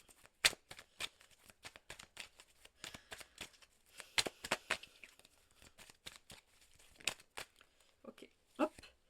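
Tarot cards are shuffled by hand to draw a card, giving a run of quick papery riffles and flicks with irregular rhythm, close and fairly quiet, with no speech over them.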